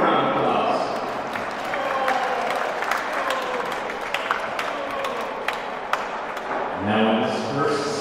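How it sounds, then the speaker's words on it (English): Audience applause ripples through a hall at a table tennis team championship as the match officials are introduced, a moderate scattered clapping that runs steadily for several seconds under an announcer's amplified voice. "Give him a round of applause."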